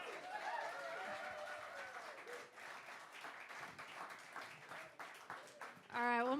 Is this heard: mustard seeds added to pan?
no